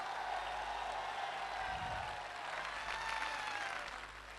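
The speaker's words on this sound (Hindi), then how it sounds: "जोरदार तालियां, दोनों हाथ ऊपर करके। Give a big hand. जोरदार तालियां दोस्तों।" An audience at a motivational speech event in Alwar, Rajasthan claps with both hands raised, a steady, moderately distant round of applause lasting a few seconds over a low hum.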